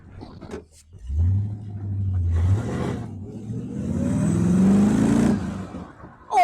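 A 1998 Westfield SEiGHT, a lightweight car, accelerates hard with a loud rising engine roar that climbs in pitch over several seconds, heard from close by with no talk.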